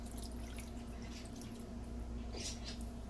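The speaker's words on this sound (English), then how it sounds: "I'm going to add half a cup of water. And I'm just pouring it." Half a cup of bottled water is poured into a bowl for homemade peanut sauce, a steady close trickle and drip that runs for the whole stretch without pause.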